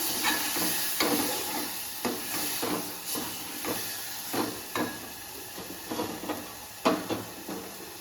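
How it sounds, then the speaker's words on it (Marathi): Water hits hot oil in a pan for a Konkani-style prawn curry, giving a loud, steady steaming hiss with repeated sputtering bursts and pops over about eight seconds. "आता ह्याच्यामध्ये पाणी टाकतोय."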